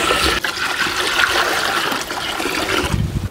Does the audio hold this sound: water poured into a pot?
yes